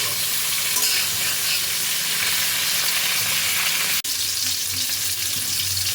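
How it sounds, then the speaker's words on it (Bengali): Cauliflower florets, first steamed in salt water, frying in oil in a pan: a steady, dense sizzle runs throughout, broken by one sharp momentary dropout near the end. "ফুলকপিগুলো ভালোভাবে ভাজা হয়ে গেছে"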